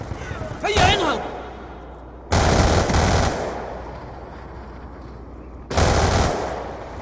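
Automatic gunfire in Call of Duty Black Ops, with three loud close bursts fired from the hip and quieter game ambience between them.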